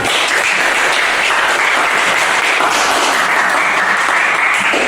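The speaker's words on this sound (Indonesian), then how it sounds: "Berikan aplaus untuk kelompok auditori." A classroom of junior high school students in Pangandaran, Indonesia, applauds a student group, a dense, loud, continuous clapping that stays even throughout with no speech over it.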